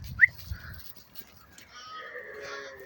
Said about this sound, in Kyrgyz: Мондай 4 баш ургачы козу сатылат